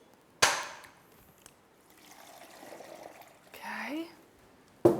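Water trickling and pouring onto fresh coconut flesh in a container, a soft steady stream for a couple of seconds, framed by sharp knocks at the start and end, with quiet talk nearby.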